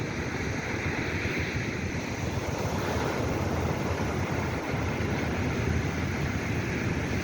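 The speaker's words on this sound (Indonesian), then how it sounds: "Pantai ini langsung menghadap ke Samudra Hindia. Itu sebabnya ombaknya besar dan kuat" Big, strong Indian Ocean waves at Molang beach roar as a dense continuous surf wash with low rumble, mixed with wind buffeting the microphone, no voices.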